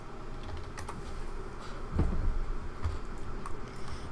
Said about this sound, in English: I was typing something up